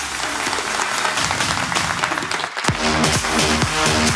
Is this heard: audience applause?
yes